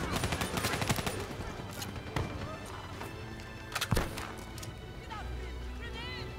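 Gunfire and a grenade blast in the video game Call of Duty: Black Ops 3, with sharp rapid shots and bursts at the start, a heavier thump about four seconds in, and talk mixed throughout.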